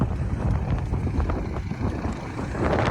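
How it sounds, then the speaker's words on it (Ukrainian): Strong wind buffets the microphone outdoors at a wheat sowing, a constant loud rumbling roar with gusty fluctuations throughout. "Ох і вітер."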